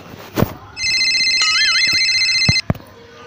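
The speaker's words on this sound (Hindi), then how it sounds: "किसका फोन है?" A mobile phone rings loudly with a bright electronic warbling tone that lasts about two seconds, with a few sharp knocks just before and after it.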